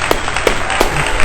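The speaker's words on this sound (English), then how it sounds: "round of applause." A studio audience gives a brief round of applause for a guest in a live talk show setting, with scattered claps over a noisy room.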